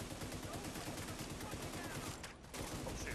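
Rapid gunfire pounds in The Division 2, a dense stream of close shots that continues almost unbroken, with one brief dip in the barrage.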